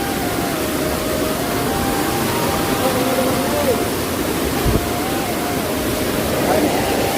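Steady, dense rush of a waterfall near a temple in Odisha during the monsoon, broadband and constant throughout, with a faint tone drifting over it.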